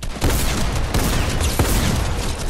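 Dense, loud Fortnite gunfire rattles through a close fight, with a few sharper shotgun-like blasts standing out in a continuous noisy barrage.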